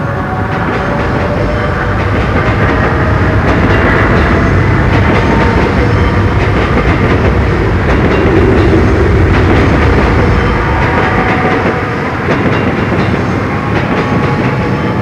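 A metro train running on its rails makes a loud, continuous rumbling roar with rattling wheel noise, heard up close and steady throughout.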